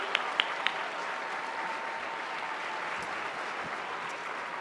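An audience at an award night gives a round of applause, a dense, steady clapping that holds at an even level from start to finish.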